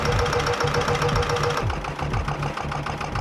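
A vintage diesel engine runs steadily close by, its rhythmic knocking pulses settling into a rounder, more even beat partway through, with no voices over it.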